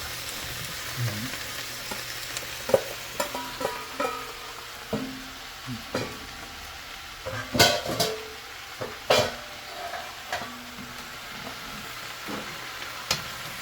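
Crab and sliced mushrooms frying in a pan with coconut milk, a steady sizzle broken by repeated louder stirring scrapes and clatters, close and without talk.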